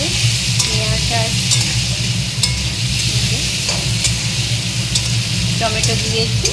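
Onion and tomato frying in a wok at a home kitchen stove, a loud steady sizzle running throughout, with short scraping stirs of a spatula and a low hum underneath.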